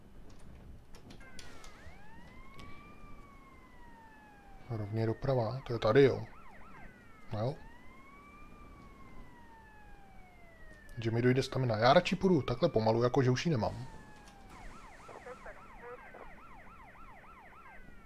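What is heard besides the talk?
police sirens of pursuing cars in the video game GTA Vice City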